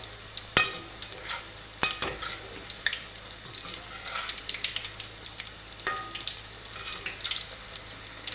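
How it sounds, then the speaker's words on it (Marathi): Spinach pakoras frying in hot oil give off a steady, crackling sizzle, punctuated by a few sharp utensil taps as the fritters are flipped. "आता मी हे भजी पलटून घेणार आहे"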